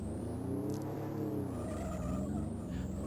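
Engine of a racing car circling a track in the 1993 Amiga game Skidmarks, a steady, buzzing drone with wavering pitch and a few brief squeals, heard alone.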